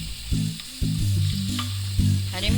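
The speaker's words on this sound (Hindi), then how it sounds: "जब तक ये प्याज भून रही है, थोड़ी सी सॉसे हो रही है" Onions sauté in a pan for haryali gosht, a steady close sizzle broken by several sharp clinks and scrapes of a spoon against the pan.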